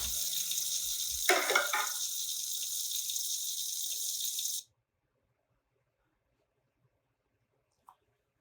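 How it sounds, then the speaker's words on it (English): Water runs steadily from a tap into a sink during dishwashing, a close continuous hiss with a brief clatter partway through, then cutting off abruptly to near silence. "the running water is actually the same clip of running water looped 4 times"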